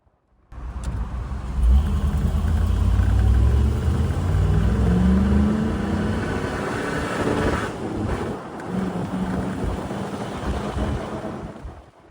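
LS-swapped Jeep TJ with an automatic transmission accelerating, a loud rising engine drone that climbs in pitch, shifts late and falls back, with wind buffeting over the engine noise.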